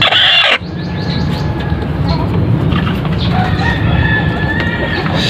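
Brooding hens sitting in their nests cluck and murmur close by, with a brief louder squawk at the start, then a steady run of low clucks and chicken calls against a busy farmyard background.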